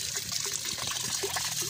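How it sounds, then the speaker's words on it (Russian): Water flows by gravity into a bath holding trout larvae, a continuous close trickle and gush with bright splashy bubbling over a steady rush. "Подача воды самотеком."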